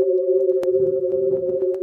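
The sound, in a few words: tones of The Scream painting converted from colour frequencies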